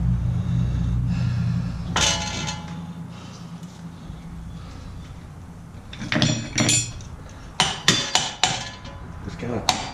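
A pry bar taps a CV axle on a Jeep Grand Cherokee, producing a cluster of sharp metallic knocks near the end, preceded by a low background rumble and occasional clinks of metal tools.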